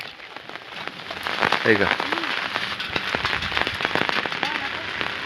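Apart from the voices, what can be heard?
rain falling in the wind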